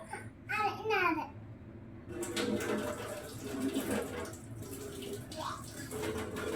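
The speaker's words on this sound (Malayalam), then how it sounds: "പൈപ്പ് നടത്ത്." Tap water runs into a sink while a small child washes dishes at home, a near, steady splashing flow broken by pauses, with the child babbling and an adult talking over it.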